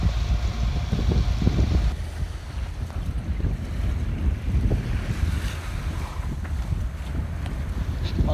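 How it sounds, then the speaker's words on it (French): Wind and a rising sea aboard a sailboat under way off Çeşme, Turkey, in a force 4 breeze: loud, continuous wind buffeting the microphone over the rushing wash of waves against the hull. "On a le vent dans le pif, petit force 4, la mer est en train de se lever."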